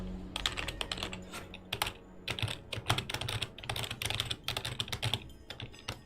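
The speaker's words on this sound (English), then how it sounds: "The difference in sound is indicative of that this keyboard is not going to survive me for much longer." Computer keyboard being typed on, close and fairly loud, with a steady run of clattering keystrokes in quick irregular bursts; the keyboard is worn and failing, so some keys sound different from others.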